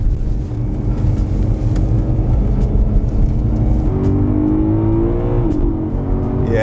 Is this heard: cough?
no